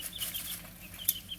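Several chickens among a flock of about twenty young birds cluck softly while pecking for food, a low steady chatter with faint rustling and one brief sharper peep.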